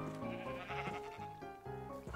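Several Minecraft sheep bleat in quick succession, a string of overlapping, fairly quiet, nasal calls.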